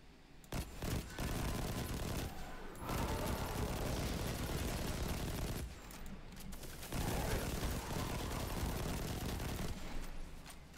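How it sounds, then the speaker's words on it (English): Rapid automatic weapon fire in the Destiny 2 Forsaken video game, loud continuous bursts that run for several seconds at a time with short gaps between them. "Damn, the rate of fire of this thing."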